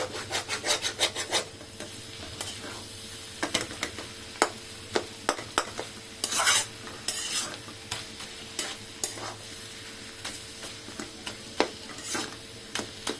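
A wooden spatula stirs a vegetable fry with coriander leaves in a pan, giving repeated rasping, scraping strokes in quick irregular bursts over a soft sizzle, close and clear with no talk.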